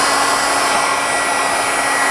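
Dryer blowing hot air to dry ink on a board book cover, a loud steady whooshing roar with no pauses, heard alone and close.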